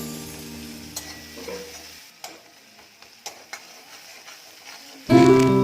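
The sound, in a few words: stirring fried onion with ginger garlic in pan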